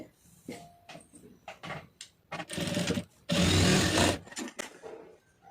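Sewing machine stitching around the lining of a blouse, running in short bursts with pauses between, and two longer, louder runs near the middle and end; close and fairly loud.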